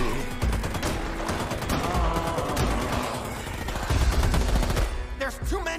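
Heavy gunfire in the Back 4 Blood video game trailer: a dense, loud barrage of rapid shots and bursts running continuously under music and effects.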